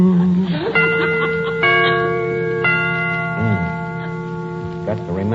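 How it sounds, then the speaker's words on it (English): Clock chimes strike several times, each ringing tone sustaining and overlapping the next, heard within an old radio comedy scene where voices murmur underneath. "Got to remember to get them chimes made softer."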